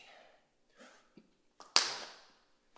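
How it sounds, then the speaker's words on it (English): Sharp, isolated hand claps from clapping push-ups ring out in a quiet room, a few soft impacts followed by one loud, crisp clap with a short decay. "Let's go clapping push-ups, 10 reps."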